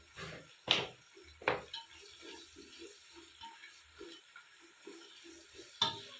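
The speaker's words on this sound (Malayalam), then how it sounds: "ഉള്ളി ചെറുതായിട്ടൊന്ന് ഇളക്കിയതിന് ശേഷം ഒരു ടീസ്പൂൺ ഉപ്പിട്ട് കൊടുക്കും" Onions being stirred in a pan after a teaspoon of salt goes in, with a few sharp scraping clinks of the spoon against the pan over a faint, quiet sizzle.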